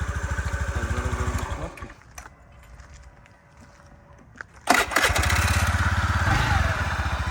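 A Honda Zoomer X 110 fuel-injected scooter engine runs with a steady, close putter, drops to near quiet for a couple of seconds, then returns sharply to its even idle chug.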